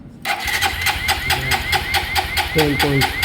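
A vehicle engine cranks with the self-starter during a battery test, rhythmic starter pulses churning steadily and a whining tone toward the end, with a voice talking over it.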